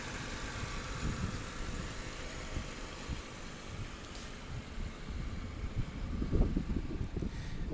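A 2000 Honda Civic EX with 360,000 kilometres on it idles at about 1,000 RPM, giving a steady low rumble close up with no voices over it.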